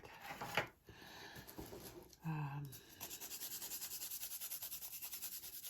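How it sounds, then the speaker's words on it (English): Derwent pastel pencil sharpened against sandpaper, a steady rhythmic rasping of quick back-and-forth strokes that grows louder and more regular in the second half, close and alone. "Oh, that needs to be sharpened. A little sandpaper will do that."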